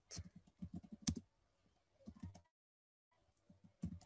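Keys tapped on a computer keyboard while a name is entered into an Excel spreadsheet, in quick close bursts broken by a short pause, quiet and with no talking.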